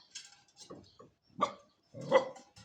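A dog gives several short, sharp barks at close range, spaced irregularly with brief quiet gaps between them, moderately loud and with no one speaking.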